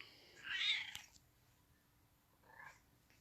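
A pet cat indoors gives one clear, fairly loud meow followed a couple of seconds later by a softer, shorter second meow, with no talking.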